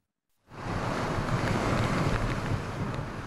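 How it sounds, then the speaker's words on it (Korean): Big typhoon waves surge against the seafront shops of Haeundae Marine City in Busan, a loud continuous roar of churning water and wind that rises after a brief silence and holds steady, with no voices. "태풍이 올 때마다 거대한 파도가 덮치는 해운대 마린시티 상가"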